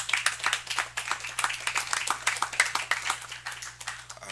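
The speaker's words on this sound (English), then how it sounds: "that clap doesn't sound like enough to eliminate you or to move you forward" Live audience at a one-minute comedy showdown clapping for a contestant, a steady ragged patter of many hands that stays fairly even throughout with no voices over it.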